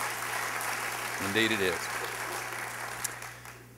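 An audience claps at a political speech by the Texas governor, a steady wash of applause under a brief spoken remark.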